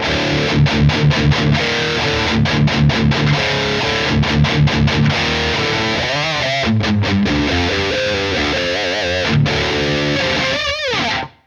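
Crunchy distorted electric guitar through a ST.ROCK React:IR reactive load and cabinet impulse response, playing riffs with palm-muted chugs, bends and ringing chords, loud and upfront, fading out abruptly at the end.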